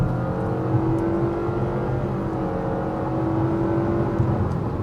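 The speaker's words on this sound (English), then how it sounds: "we take off. Pedal to the floor." A 2025 Nissan Kicks with a CVT and all-wheel drive launches at full throttle, its engine holding a steady strained drone with a continuous whir from inside the cabin.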